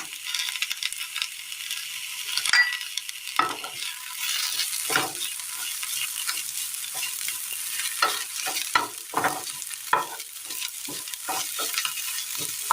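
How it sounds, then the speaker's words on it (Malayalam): Boiled cabbage stir-fried with onion and curry leaves in a Kerala-style pan, a steady frying sizzle with repeated scraping strokes of the spoon at a close, even pace, no one talking. "ഈ സമയം ഇതിലേക്ക് വേവിച്ച് വെച്ചിരിക്കുന്ന ക്യാബേജ് ഇട്ട് കൊടുക്കാം."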